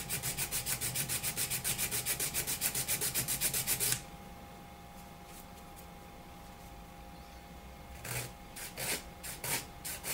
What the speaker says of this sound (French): Je lime